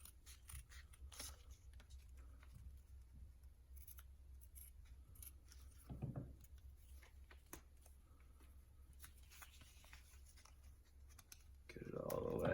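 Scissors snip a diamond-shaped hole in tape on a foot: quiet, close clicks and crisp cuts in short bursts over a low hum, with a louder rustle near the end.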